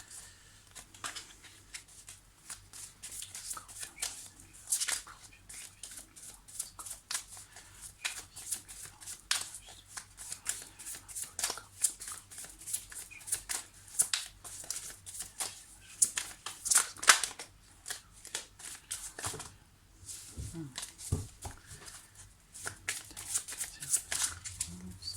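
Tarot cards shuffled and drawn by hand in a steady run of soft, close riffling and flicking, with occasional sharper snaps and brief quiet gaps, and no talking.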